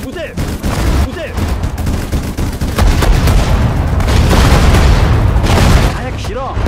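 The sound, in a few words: gunfire and explosions in Sudden Strike 4 video game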